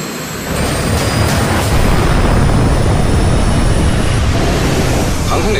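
A carrier-based fighter jet takes off from an aircraft carrier deck in a loud, close, broadband roar that swells quickly and holds steady to the end.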